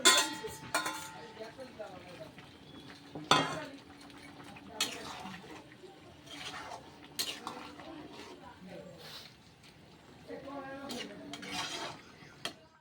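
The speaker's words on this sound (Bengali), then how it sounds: "এটা ফুটে গেছে, এবার চিংড়ি মাছগুলো দিয়ে দেবো" Prawns go into a boiling pan and get stirred, making close metallic clanks, scrapes and watery bubbling in uneven bursts, with a brief lid knock near the start and quieter stretches between.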